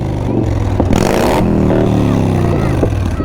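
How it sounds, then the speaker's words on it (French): A Harley-Davidson motorcycle engine runs steadily and loudly throughout, a deep rumbling idle with harmonic throb and a brief rev near the middle, heard alone without talk. "Cette architecture émet un son si particulier que Harley-Davidson a même cherché à faire breveter le son de ses machines."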